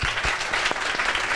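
A TV studio audience claps loudly and steadily in a dense burst of applause throughout.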